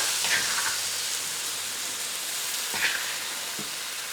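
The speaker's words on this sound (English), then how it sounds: "So I've got a pan here with a couple tablespoons of canola oil in here, and we're gonna saute our herb paste." Garlic and chili herb paste sautés in a couple of tablespoons of canola oil in a pan, giving a soft, steady sizzling hiss with faint occasional crackles and no talk.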